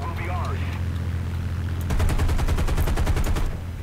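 Machine guns on a P-51D fighter in War Thunder fire a rapid, steady burst at AAA units for about a second and a half over a constant droning engine, with a brief voice audible early on.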